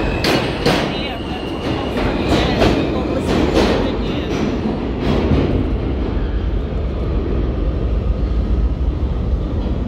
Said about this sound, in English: You don't see an electric train at the station this fast.